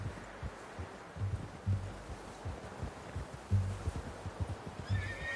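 A horse in Red Dead Redemption 2 gives a soft whinny and snorts, with a few light hoof and rustling sounds, fairly quiet and close with no talk.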